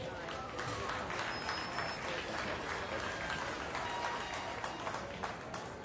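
Steady applause from a crowd at a county beef cattle show, dense and sustained for several seconds at an even level.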